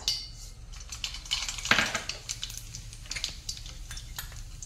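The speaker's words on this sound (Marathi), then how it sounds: "आपण आता मोहरी घालू अर्धा चमचा" Half a spoon of mustard seeds goes into hot oil for Maharashtrian dal khichdi, giving a close, irregular crackle and popping with light utensil clinks.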